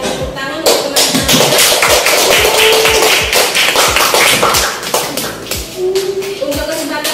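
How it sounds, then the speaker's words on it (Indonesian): A classroom group claps for a fellow group after their presentation, a burst of dense, close applause that runs steadily throughout, with sharp individual claps, shuffling and faint murmuring voices underneath. "Kita berikan tepuk tangan untuk teman-teman."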